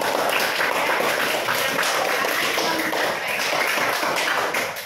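Schoolchildren in a classroom give a loud, dense round of clapping that stays steady and close for several seconds with no speech.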